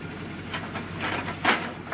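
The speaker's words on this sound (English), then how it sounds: "You can see it idles nice and low. Idles at about 700." A 1951 car engine idling low at about 700 rpm, a steady low rumble close by with a few faint knocks and rustles over it.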